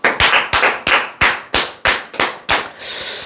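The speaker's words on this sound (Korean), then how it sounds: "박수 한번 치시죠." A small group claps in a few loose, separate bursts, about eight sharp claps spread over three seconds, ending in a brief patter of applause, with no talking.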